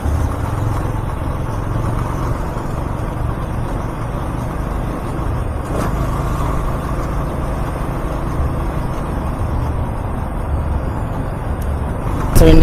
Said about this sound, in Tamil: அந்த வண்டி மட்டும் தான் அதிருது.